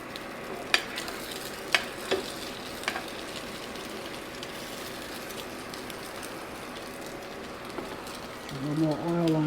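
Salmon croquettes fry in oil with a steady, broad sizzle that runs throughout, punctuated by a few sharp clicks and pops. A louder burst of crackling rises near the end.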